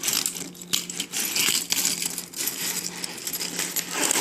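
Close metallic clicks and rattles as a folding multi-tool is worked open by hand, a few sharp snaps amid scraping metal handling.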